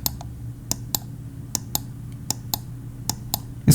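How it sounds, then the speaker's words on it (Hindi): Scroll wheel button of a Zebronics Groot mouse pressed repeatedly, giving about ten sharp, distinct clicks at an uneven pace, close and fairly loud over a faint hum. "स्क्रॉल क्लिक उतना साइलेंट नहीं है, ये नॉर्मल माउस जैसा ही क्लिक हो रहा है"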